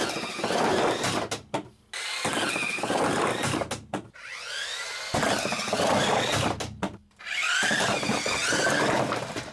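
TerraSect RC toy vehicle's electric motor rolling and flipping, a loud high-pitched whirring in several bursts that rise and fall in pitch, separated by brief pauses.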